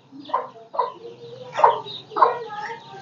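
A chicken clucks in a series of short, close, fairly loud bursts at an uneven rhythm, with nothing else sounding alongside it.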